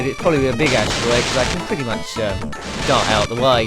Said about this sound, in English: I do apologise if you can hear loud fireworks in the background